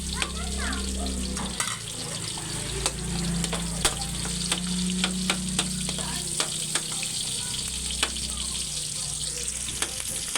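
Garlic and onion sauté in hot oil for pansit bihon, a steady close sizzle broken by scattered sharp pops and crackles, with a low hum and water running faintly underneath.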